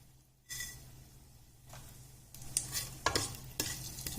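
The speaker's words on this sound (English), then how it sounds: "Then we will add mustard seeds." Mustard seeds and hing hitting hot oil, breaking into a sudden close sizzle that builds with scattered popping crackles and stirring, fairly quiet overall.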